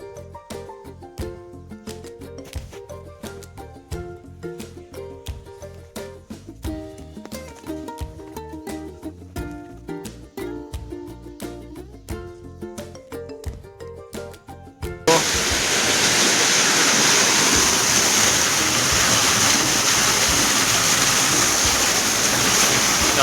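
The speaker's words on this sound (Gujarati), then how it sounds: "જો પાણી આવે છે" Canal irrigation water flowing into a mustard field on a farm: after about fifteen seconds of rhythmic music, a loud, constant, close rushing of water takes over and continues unbroken.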